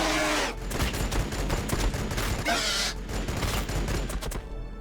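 Rapid volleys of gunfire from Warhammer 40,000: Battlesector ring out in dense, overlapping bursts and sharp cracks, loud and continuous across the whole stretch with a few heavier surges.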